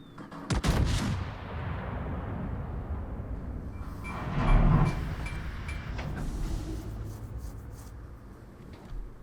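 A heavy battleship salvo booms close and loud in World of Warships, aboard the Japanese tier 8 battleship Yumihari, followed by a long rumbling tail and a second, softer thud midway.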